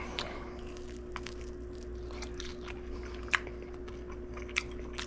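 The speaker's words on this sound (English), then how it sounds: "Take a bite." Someone bites into and chews a slice of sourdough pizza with a cooked tomato sauce. Soft, close crunches and chewing come in short bursts with a couple of sharper crisp snaps, over a low steady hum.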